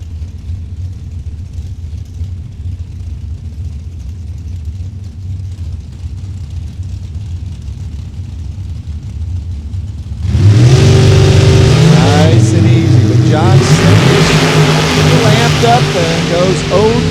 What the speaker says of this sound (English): Joey Fusting wrapping that throttle down there to make sure that the race car engine is ready.